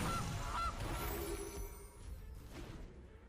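Cartoonish goose honks from the Gilded Goose card in the MTG Arena digital card game, two short bright honks up front, then a soft whoosh and fading game chimes, all alone with no talking.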